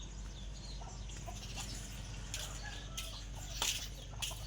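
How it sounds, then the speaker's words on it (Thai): Hens clucking faintly at a distance on a farm after rain, over steady low background rumble, with a few sharper calls rising near the end. "ฝั่งนู้นก็จะเป็นไก่นะฮะ"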